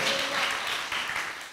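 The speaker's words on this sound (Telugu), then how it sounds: "కొట్టాలి ఇప్పుడు చప్పట్లో" A church congregation claps together during a sermon, a brief, fairly loud patter of hands filling the room.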